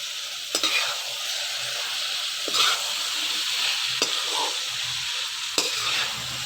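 Green chillies and sliced tomatoes frying with qeema in a pan, a steady bright sizzle with a few sharp stirring clinks spaced through it, close and fairly loud, no talk.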